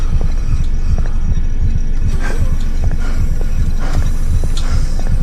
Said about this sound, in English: The contraption above seems to be controlling his breathing.